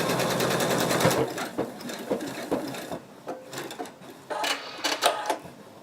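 A sewing machine runs steadily while stitching a betta fish plush, its fast mechanical whir and needle clatter loud and close, then breaking into shorter start-and-stop bursts.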